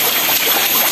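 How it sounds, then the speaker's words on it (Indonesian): Water trickles from a stone spring spout at a cliff temple in Tampaksiring, Bali, a steady close splashing hiss with no voices. "pancuran air atau jalakwara"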